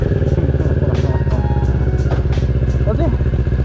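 A motorcycle engine idles and putters steadily up close, a rapid throbbing rhythm with occasional clatter, while a voice speaks briefly over it.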